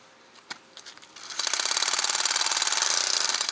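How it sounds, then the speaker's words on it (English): A DeWalt hammer drill in hammer mode bores straight down into a marked spot while a pool safety fence is being installed. A few light knocks come first, then a loud, steady rattling hammer-drill roar runs to the end. "I have it on hammer drill."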